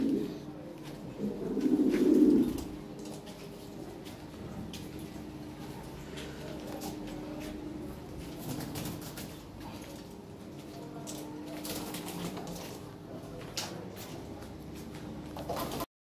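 Lahore pigeons give a soft cooing burst near the start, then quieter low murmurs sit over a steady background hum for the rest.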